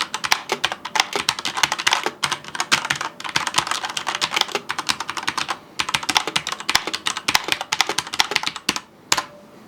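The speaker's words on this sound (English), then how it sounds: "this is just a full typing test just to give you a rough idea" Steady, rapid typing on a Mad Catz S.T.R.I.K.E. 2 RGB gaming keyboard gives close, loud key clatter with dense uneven rhythm. A short pause comes near the end, then a few final keystrokes.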